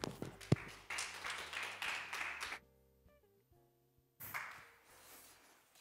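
A church congregation at a Sunday worship service applauds to welcome the preacher, with a dense burst of clapping for about two and a half seconds, a quiet gap, then a second wave of applause.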